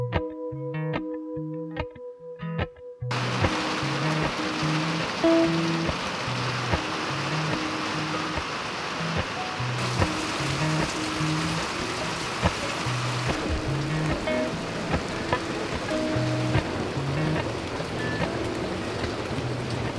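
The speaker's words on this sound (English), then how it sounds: "The rain is so typical for April and May in central PA where we live" Steady rain falls outside in central Pennsylvania in spring, a dense, even patter that runs the whole stretch after a brief opening of quieter sound, with faint tonal hums and no voices.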